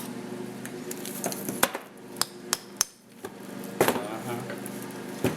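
A hammer taps sharply on the concave washer shim of a VW CV joint during a boot replacement. The metallic knocks come in an irregular series of distinct strikes, with some light clinking between them.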